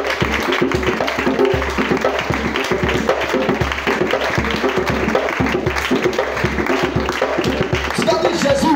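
A church congregation at prophetic prayer claps and cheers for Jesus in a dense, continuous wash of applause and voices that stays loud and steady throughout.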